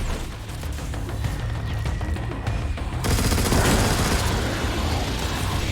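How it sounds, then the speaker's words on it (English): A machine gun fires in Destiny 2 as a dense, loud, rapid stream of shots that grows heavier and more thunderous halfway through, with no talking. "this machine gun's not bad"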